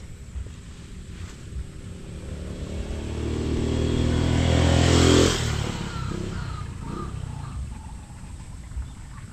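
A motorcycle engine hums steadily while riding on a delivery run, rising to a louder, nearer roar midway before easing back, with wind noise rushing over the microphone throughout.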